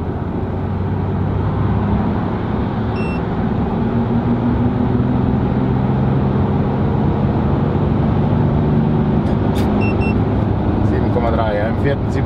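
A VW Amarok V6 with Stage 1 software pulls hard in fourth gear, its engine drone rising steadily over road and wind roar, with a brief chime near the end.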